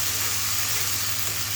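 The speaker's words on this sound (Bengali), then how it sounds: "পেঁয়াজ রসুন আদা এখন সুন্দর করে আমি হচ্ছে কষিয়ে নিব" Onion, garlic and ginger sauté in a hot pan with ground spice paste, giving a steady, close, even sizzle that holds for the whole short stretch with no one talking.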